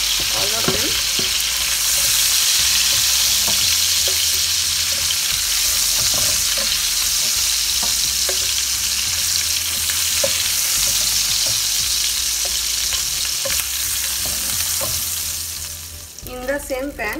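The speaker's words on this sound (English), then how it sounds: "Do not fry too long, otherwise it will become hard." Jumbo prawns fry in a hot pan with a loud, steady sizzle that continues for the whole stretch, broken by occasional clinks and scrapes as they are turned, and easing off near the end.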